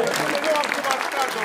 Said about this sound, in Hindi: आप सब हमारे साथ अगर तालियां दे